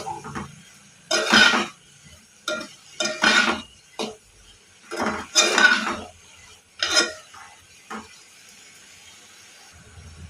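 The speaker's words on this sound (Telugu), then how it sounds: "ఇవన్నీ బాగా కలుపుకోవాలి" A chana dal and cauliflower masala curry stirred in a pot, heard as several separate bursts of close scraping and clattering between quieter pauses, alone without talk.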